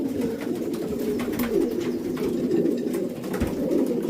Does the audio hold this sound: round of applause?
no